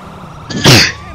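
Someone gives one sharp, loud sneeze during a Grand Theft Auto V Online session about store robberies, a quick inhaled build-up followed by a sudden burst.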